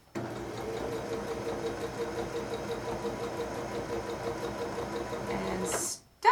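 A sewing machine stitches fabric in a steady, fast mechanical chatter for several seconds, fairly quiet and close, then halts abruptly.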